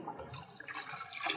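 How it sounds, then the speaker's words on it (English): Water is poured from one beaker to another, a quiet steady trickle and splash that carries on throughout with no voices. "we're pretty much transferring the same amount of water in each transfer"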